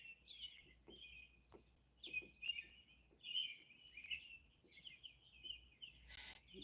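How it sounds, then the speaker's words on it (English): Small birds chirp and tweet outdoors in quick, repeated bursts throughout, moderately close over a faint background hum, with no talking. "You thought it was the birds too, Freaky J?"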